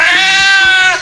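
A cartoon cat gives one loud, drawn-out meow that wavers in pitch, clear and close with nothing else behind it, fading at the very end.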